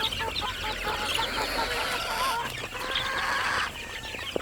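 Chickens clucking in a poultry breeding yard, several birds chattering and calling nearby at moderate volume in a steady, overlapping stream with no talk.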